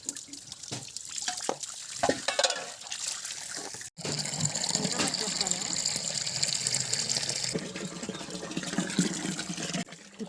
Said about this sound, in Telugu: ఈ బిందెతో పట్టుకెళ్ళి మళ్ళీ దాంట్లో పోస్తానండి